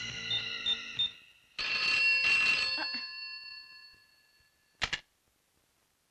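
A telephone rings during a call to a hospital, two electronic bursts of ringing, the second long, then a short final chirp and near silence.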